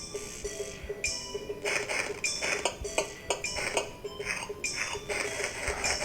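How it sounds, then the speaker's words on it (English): A roguelike game plays its chopping effect again and again, a string of short woody, clattering hits in an uneven rhythm over a low steady background hum, with no voice. "That will make it so that we, the user can hear their player chop something down."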